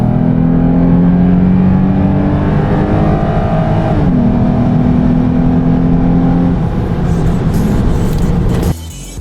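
A 2007 Lexus IS 350 fitted with an RR Racing carbon fiber intake makes a steady, loud engine drone as it drives by at around 55 mph, the pitch sliding slightly midway and the sound cutting off abruptly near the end.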